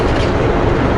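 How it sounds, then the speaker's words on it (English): Loud, steady rumbling roar of a train going by at close range, broadband and continuous with no talking. "Train."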